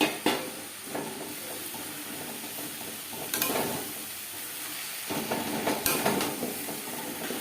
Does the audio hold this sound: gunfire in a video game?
no